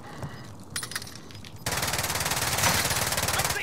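Gunfire in Warzone, sparse shots at first, then a dense continuous burst of rapid automatic fire that is loud and close.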